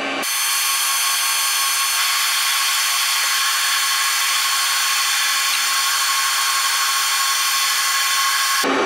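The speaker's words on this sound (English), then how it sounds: "we're running the lathe at just under 700 RPM" A Warco WM180 mini lathe cuts mild aluminium under power feed at just under 700 RPM, giving a steady, loud, even machining whine with a bright hiss that holds constant from start to end, with no voices.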